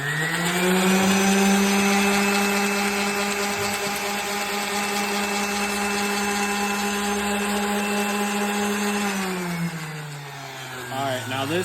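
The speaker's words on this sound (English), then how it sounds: "I'm going to show you how to sand." A power sander works a piece of wood in a shop, its loud steady motor whine droning close by for several seconds before spinning down near the end.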